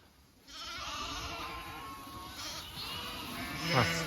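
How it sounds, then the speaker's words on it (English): Sheep in a growing flock with many lambs bleat at close range, several overlapping wavering calls after a brief quiet start, with one louder bleat near the end. "Sheep!"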